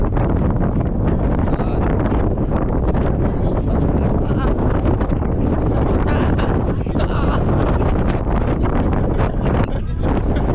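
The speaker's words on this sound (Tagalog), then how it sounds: "napakalakas ng hangin sa labas" Strong wind on a ferry from Vancouver to Nanaimo buffets the microphone in a loud, constant rumbling roar that never lets up.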